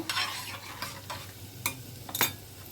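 A spoon stirs lentils into fried onions in a pan on a gas stove, with a soft sizzle under several scraping strokes and clinks, quiet and close.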